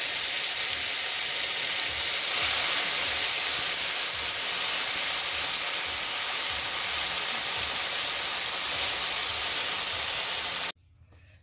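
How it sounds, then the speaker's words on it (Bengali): Taro leaf paste (mankochu leaf) frying in hot oil in a home kitchen gives a steady, dense sizzle and hiss that runs unbroken for about ten seconds, then cuts off abruptly into near silence. "পাতা বাটা আমার রেডি, এবার আমি তেলের পরে দিয়ে ভেজে নিচ্ছি।"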